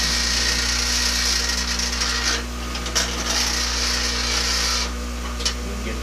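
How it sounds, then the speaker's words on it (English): A grinding stone wheel, cooled with a water pail, spins while a file is ground into a knife, giving a continuous loud motor hum with a steady rattling, scraping texture and occasional louder grinding bursts. "Get that thing to quit from making so much rattle."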